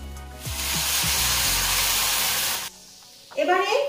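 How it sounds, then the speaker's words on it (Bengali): A cup of water poured into a hot pan of Bengali fish roe chorchori, bursting into a loud, steady sizzling hiss for about two seconds that cuts off abruptly, followed by a short clatter. "আমি চায়ের কাপের 1 কাপ জল অ্যাড করছি।"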